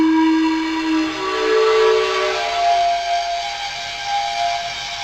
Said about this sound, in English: And that's sort of panpipes noise.